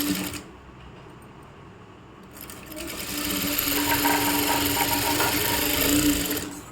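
An electric sewing machine stitching chudidhar lining at a half-inch seam: quiet handling at first, then a steady close mechanical whir of rapid stitching that runs for several seconds before stopping.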